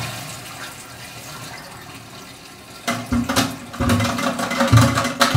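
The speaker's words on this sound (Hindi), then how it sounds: "पहले हम इसका पानी निकाल लेते हैं" Water draining and gushing from the cistern of a combined WC during a flush repair, starting after a quiet stretch with low background noise, then running loud and close in irregular surges with gurgles, no talk.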